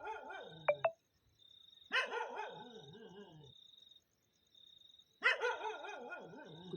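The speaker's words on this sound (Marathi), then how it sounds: "कुत्रे बी मरणाचे भुकायले बरं." Dogs bark at night in repeated bursts of loud, close barking with short yips, separated by brief quiet gaps and a faint background hum.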